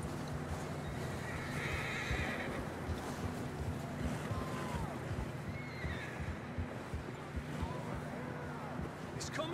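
Horses in the video game Red Dead Redemption 2: a clear whinny and snorts over steady clip-clopping hooves and outdoor ambience, with talk in the background.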